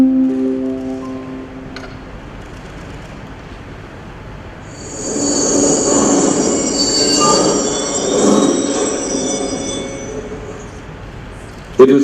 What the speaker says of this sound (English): the train from Bombay pulled into the ramshackle station at Anand